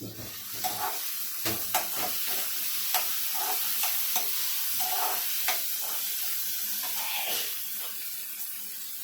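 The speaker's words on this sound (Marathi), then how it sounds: "कांदा लाल झाला आता मी टोमॅटो टाकते" Chopped tomatoes tipped into onions that have been fried until red, crackling in a pan for a cabbage dish, with repeated scraping stirs of a spatula over a soft steady sizzle.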